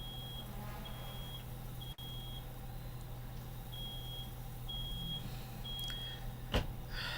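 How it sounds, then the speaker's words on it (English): Smoke alarm at a campground chirping in short repeated high beeps, evenly spaced, over a steady low hum, with a sharp click and a thump late on. "gonna curse at the smoke alarm now"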